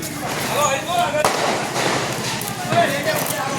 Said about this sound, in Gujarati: હવે ઓલો 16 શોટ વાળો ફટાકડો હતો એ ફોડવાનો છે